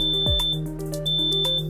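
A smoke alarm set off by cooking fumes, sounding a sustained high-pitched electronic tone with repeated pulsing beeps over a low background hum, close and loud, with no voices.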